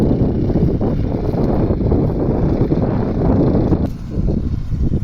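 Heavy wind buffeting the microphone in a field after sowing winter barley, a loud continuous low rumble with gusty fluctuations that dips briefly near the end before returning.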